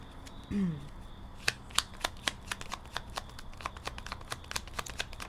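Lenormand oracle cards are shuffled close by, giving a series of soft, crisp flicks and snaps in an uneven rhythm, faint and alone after a brief murmur at the start.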